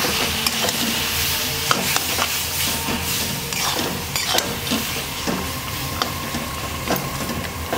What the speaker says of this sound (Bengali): এটাকে ভালো করে নাড়াচাড়া করে নেব